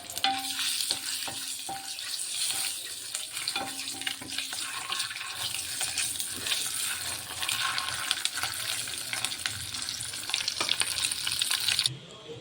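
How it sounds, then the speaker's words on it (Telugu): Dal seasoned with turmeric, salt and cumin sizzles and fries steadily in a pan, with spoon stirring scrapes and a few clinks throughout, ending abruptly. "అందుకని ఫ్రై చేస్తాను"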